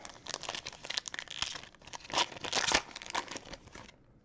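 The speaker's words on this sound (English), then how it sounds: "Let's rip into this." Foil wrapper of a 2020 Panini Chronicles basketball blaster pack being torn open, a close, continuous crinkling and ripping lasting about four seconds with louder tearing bursts near the end, then stopping.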